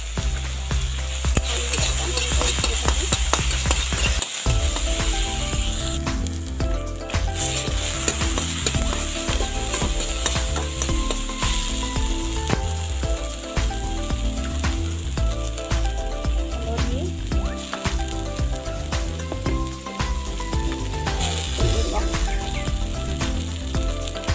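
Onions fry in mustard oil for an Assamese drumstick curry, giving a loud, continuous close-up sizzle with repeated stirring scrapes and clinks that lasts the whole stretch.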